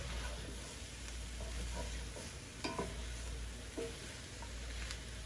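Spinach wilting in a pan with browned meat, onions and potatoes, giving a soft, steady sizzle with a few light scrapes and stirring knocks from a utensil against the pan.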